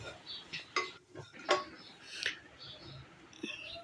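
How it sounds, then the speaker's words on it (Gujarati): Crumbled leftover bhakri is stirred in a pan, with soft scraping and several sharp clicks of a spoon against metal at an irregular pace, faint and close. "ભૂકો એડ કરીને હવે આપણે તેને સરખી રીતે મિક્સ કરીશું."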